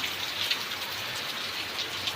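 Rain falls in a soft, steady hiss, fairly faint, with a few slightly louder drop patters scattered through and no voices.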